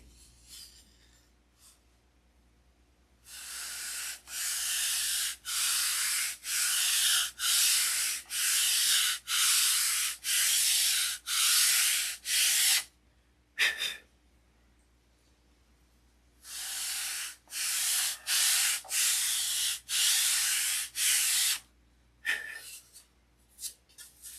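Sanding a balsa-like Sig Magnum model airplane stabilizer and elevator by hand, with regular back-and-forth rasping strokes in two long runs separated by a pause, close and clear with no talking.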